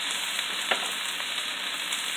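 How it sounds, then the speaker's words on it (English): Broccoli and onions sauté in a hot pan for a shrimp stir fry, giving a steady, close, even sizzle with faint stirring scrapes and no voices. "I'm just going to let these saute"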